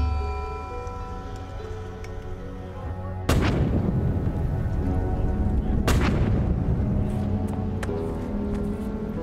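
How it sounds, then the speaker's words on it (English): Soldiers destroy their own ammunition in Afghanistan: a sudden heavy blast lands abruptly over a quiet hum, then a second sharp detonation follows a few seconds later, with rumbling noise lingering between and after. "starting with the Green Berets blowing up their own ammunition."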